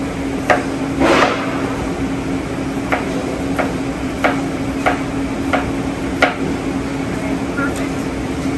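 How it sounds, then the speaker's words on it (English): An onion sliced with a knife on a cutting board gives a handful of sharp, irregular chops spaced a second or so apart, close up, against a faint steady room hum. "So we're going to chop up this onion, some nice slices."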